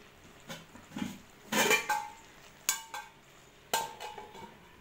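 A metal lid goes back onto a pot of Malabar spinach and potato curry with a few separate clanks and clinks, close and sharp, scattered across quiet gaps.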